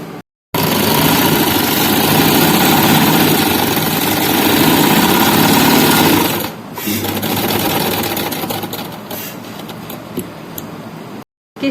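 A sewing machine runs steadily and loudly, stitching a seam on an umbrella frock, with a short pause around the middle before the motor resumes and then cuts off near the end.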